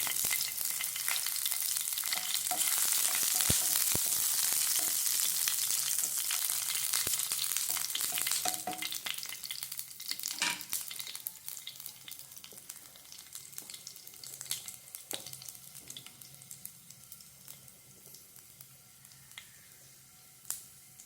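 Ginger and garlic fry in hot coconut oil, giving a steady, close sizzle that runs the whole time, with a few stirring clicks and scrapes. The sizzle eases slightly toward the end, and no one talks.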